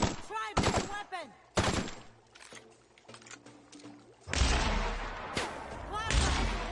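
Plasma weapon fire in The Outer Worlds, with bursts of crackling, whooshing energy shots, some close and loud, others layered with combat noise and hits, in uneven clusters amid the fight.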